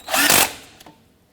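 A power tool briefly whirs as it tightens a strut bolt on the front strut and spring assembly of a 2006-2014 Honda Ridgeline. A single loud, close burst lasts under half a second, then trails off into a faint click and near silence.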